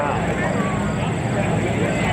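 F/A-18F Super Hornet jet at an air show, engine roaring in max afterburner as a steady distant rumble while an announcer talks over it.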